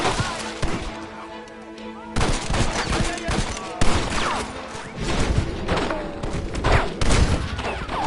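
A shootout in Red Dead Redemption: dense, continuous gunfire from many weapons, with overlapping shots and booming reports at close and middle distance.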